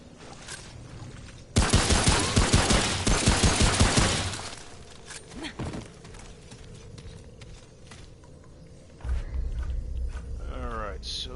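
A fast-firing repeater rifle in Remnant: From the Ashes lets off a rapid string of about a dozen sharp, loud shots in quick rhythm, followed by quieter footsteps and scattered game noises, with talk over parts of it.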